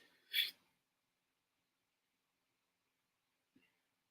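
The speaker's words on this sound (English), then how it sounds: "I'm about to sneeze." A single short, sharp sneeze in a quiet room, followed by a faint small sound a few seconds later.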